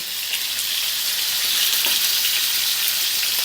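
Loud, continuous sizzling of pork ribs frying in a pan, a dense crackling hiss with scattered pops, heard up close and without voices.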